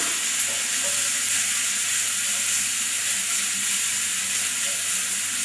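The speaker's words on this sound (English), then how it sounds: "Fry the onions a little until they're golden brown." Onions frying in a hot oiled pan for curry potatoes give a steady, close sizzle that runs evenly throughout with no talking.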